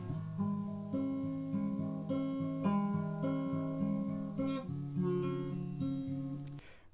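Guitar recorded through a computer microphone and run through an EQ that cuts the low end, playing a picked melodic line of clear sustained notes, moderately quiet with no talking.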